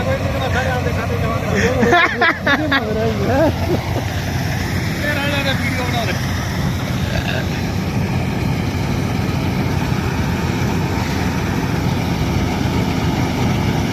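A tractor engine idles with a steady low chug throughout, outdoors on a paddy farm, while people talk over it early on.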